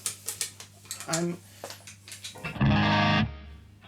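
A clean electric guitar through the clean channel of a Friedman BE 100 DLX amp plays a few picked notes, then rings out a fuller, louder chord before fading.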